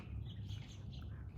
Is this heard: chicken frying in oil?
no